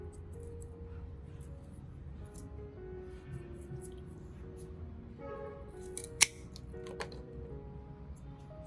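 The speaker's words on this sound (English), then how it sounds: "Cut off the spent flower spikes." Scissors trimming spent flower spikes from an orchid: quiet background hum, then a few faint snips and one sharp close click near the end.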